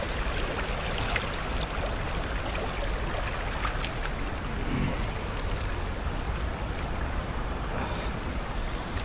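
Steady, continuous rushing of a cold river flowing around someone wading across it on foot, a broadband wash with no talk, holding even and fairly loud throughout.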